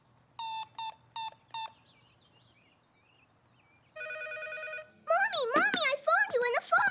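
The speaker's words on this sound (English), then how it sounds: "Mommy, I phoned you and the phone rang." Cartoon telephone bell rings in four short, evenly spaced bursts, then a steady electronic tone follows, before a lively burst of warbling chirps and sound effects closes the scene.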